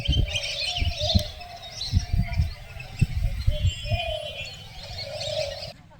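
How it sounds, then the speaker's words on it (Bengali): Migratory lesser whistling ducks chirping and twittering at a pond on a foggy morning, a dense chorus of high calls running continuously, with low thumping noise and brief talk beneath. "সকালবেলা কুয়াশার মধ্যে তাদের কিচিরমিচির আরো সুন্দর"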